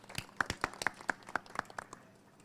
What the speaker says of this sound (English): I just would like to make a big round of applause for all these people